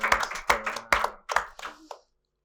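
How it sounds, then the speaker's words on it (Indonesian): A few people clap hands together during a relaxed school interview segment, several distinct close claps in a short burst that fades out after about two seconds. "tepuk tangan"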